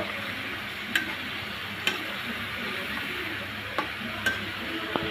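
Washed potatoes and vegetable stalks being stirred into a cooked spice mix with oil for a shrimp curry, a steady sizzle with occasional sharp ladle clicks against the pot at irregular intervals.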